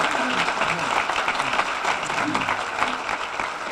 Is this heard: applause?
yes